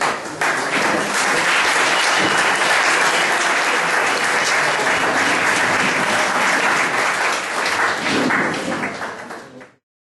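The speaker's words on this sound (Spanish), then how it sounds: "Lo que os recuerdo es un agradecimiento a todos vosotros, os aplaudimos." Loud, dense applause from an audience at a gathering against contemporary tyranny, continuous clapping for about nine seconds before cutting off abruptly.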